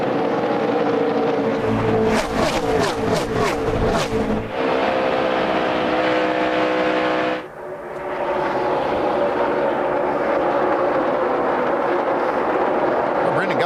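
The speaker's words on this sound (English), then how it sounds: "Brendan Gaughan almost ran over Mark Martin. And they race there for 8th and 9th spots." NASCAR Nationwide Series race cars roar past during the Sam's Town 300, engines screaming in a loud, continuous drone with a brief burst of rapid pass-by pulses and a short dip midway, with a commentator talking over them.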